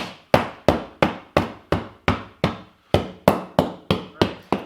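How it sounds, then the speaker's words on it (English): A mallet pounds a tire bead into place on a beadlock wheel for a BFG KM3 tire, about thirteen sharp, evenly spaced whacks ringing out loud and close with no talk. "this is where you're going to take your mallet and just start kind of beating it into place"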